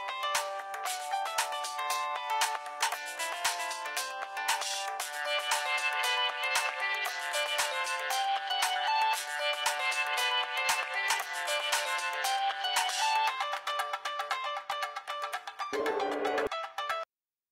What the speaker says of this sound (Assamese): চাচোন কাৰ ফোন আহিছে